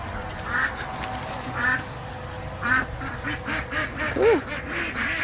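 Ducks quack repeatedly in a front yard, a series of nasal calls at close range over steady outdoor background noise, with a louder, sharper quack toward the end.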